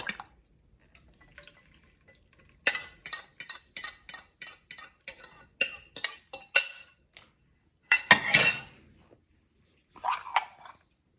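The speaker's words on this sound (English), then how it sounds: "I've got 4 eggs. Just gonna whisk them with a fork, nothing fancy." Four eggs are whisked with a fork, a quick run of sharp clinking taps against the bowl, then a pause and a couple of louder scraping bursts, with no voices.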